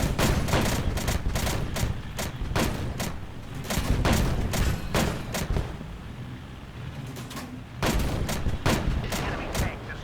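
Tank cannon fire and shell impacts in a tank combat video game: a rapid series of heavy, booming shots and hits, loud and close, coming in dense bursts with a short lull before resuming.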